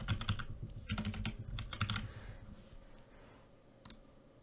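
Quick bursts of keystrokes on a computer keyboard sound close and crisp, forming short clustered runs that thin out toward the end.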